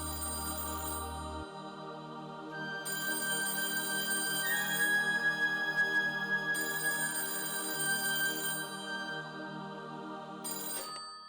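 A telephone ringtone plays a repeating electronic melody, steady and moderately loud, with no one speaking over it.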